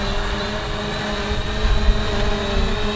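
A Fimi A3 drone descends to land, its propellers giving a steady, close whirring buzz with faint wind rustle underneath and no talking.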